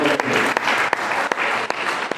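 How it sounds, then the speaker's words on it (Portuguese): A church congregation applauds at a Friday night worship service, steady dense clapping filling the space with a few sharper claps standing out, and voices faintly audible beneath. "Pode louvar o Senhor com as palmas bem fortes para vocês"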